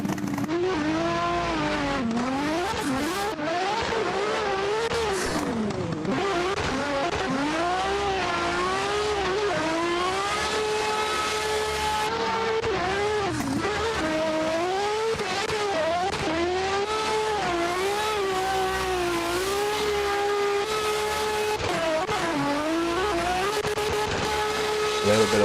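Race car on a qualifying run at Rockingham, its engine droning steadily and close throughout with rising and falling pitch as it revs, while a commentator talks over it.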